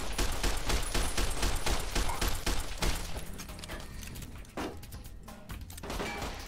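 Rapid, dense gunfire from a Fallout New Vegas firefight in Boulder City, loud bursts packed tightly for the first three seconds, then thinning into scattered shots and impacts.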